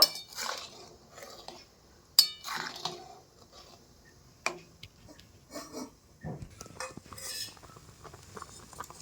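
A spoon gently stirs milk with chusi pitha in a pot, giving soft, scattered scrapes and light clinks against a quiet background, with occasional sharper taps.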